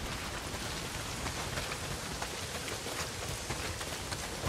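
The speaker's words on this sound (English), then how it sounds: "Well, not if it's pissing down rain." Heavy rain pours steadily in the video game Days Gone, a dense continuous hiss of drops hitting surfaces with no voices.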